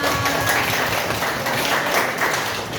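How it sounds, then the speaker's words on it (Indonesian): Students in a classroom break into lively applause for one another, a loud, busy patter of many hands clapping at once for a few seconds. "tepuk tangan untuk kita semua"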